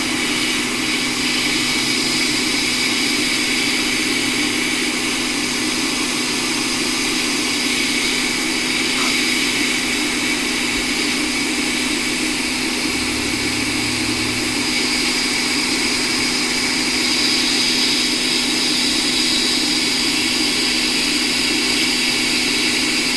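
Hot air rework gun, turned up to full temperature, heating the display connector on a 2017 12-inch Retina MacBook logic board, a loud steady blowing hiss and fan whine running unbroken throughout.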